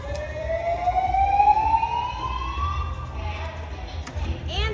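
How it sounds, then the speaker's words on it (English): A rising siren wails through a high-limit casino slot floor, climbing in pitch over a few seconds alongside a low machine hum, loud and close, with a second siren-like sweep starting near the end. "sirens are going off, but I think we're fine."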